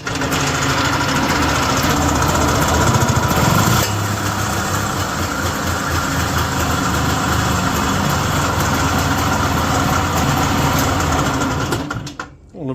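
A Yamaha G1 golf cart's small gasoline engine runs at a steady, buzzy idle close by for about twelve seconds, then cuts out and falls quiet near the end.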